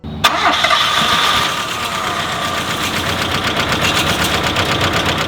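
A barn-find Mazda 323 GT, left sitting for 27 years, cranks and catches, then settles into a loud, uneven idle with a steady rapid pulsing that hints at a misfire, close to the microphone.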